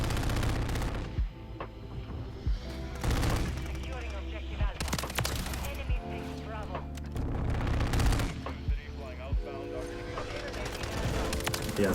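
Rapid gunfire bursts from an FJX Horus submachine gun in Call of Duty: Modern Warfare III multiplayer, sharp repeated volleys with heavy low booms and in-game effects running throughout the match.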